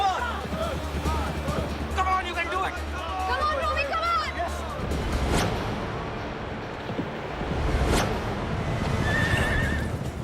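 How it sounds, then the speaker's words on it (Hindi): Racehorses run in the 2016 Royal Derby at Mumbai racecourse on a fresh morning, with loud neighs and hoofbeats. A voice talks over the sound, and crowd babble fills the background. "मुंबई रेसकोर्स की ताजी सुबह में 2016 रॉयल डर्बी की शुरुआत होती है और 400 मीटर के मार्ग पे घोड़े पहुंच चुके हैं"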